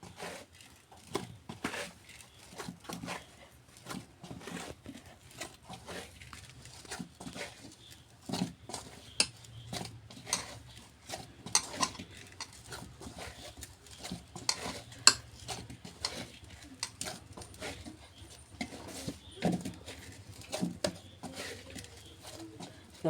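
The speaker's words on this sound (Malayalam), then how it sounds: "ഇപ്പോൾ ചൂടൊക്കെ ആറി പൊടി വാട്ടിയത് ഇപ്പോൾ നന്നായി കുഴച്ചെടുക്കണം" Steamed rice flour dough for kuzhalappam being kneaded by hand, giving close, irregular sticky squelches, slaps and light taps against a bowl that run steadily throughout, with no voices.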